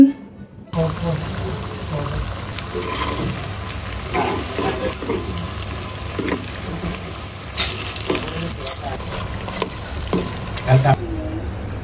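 Iftar snacks fry in hot oil, a continuous bubbling sizzle with occasional stirring, close and fairly loud, while a voice talks faintly in the background.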